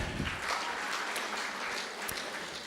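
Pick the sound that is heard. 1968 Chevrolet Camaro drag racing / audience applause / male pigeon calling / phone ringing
audience applause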